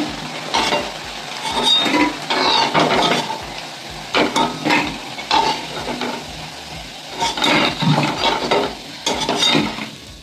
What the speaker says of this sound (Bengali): প্রথম ব্যাচটাই ভাজা হচ্ছে বন্ধুরা, কম আঁচে দিয়ে ভাজলাম